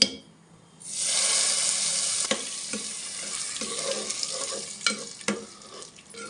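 Hot tempering poured into drumstick leaf dal bursts into a sudden loud sizzle that settles into a steady hiss, with a few clinks and stirring knocks as it fades, close and without talk.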